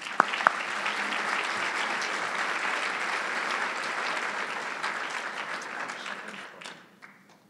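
An audience claps warmly to welcome Shane Fitzgerald at a gathering, a dense, sustained round of applause that holds steady for several seconds before tapering off.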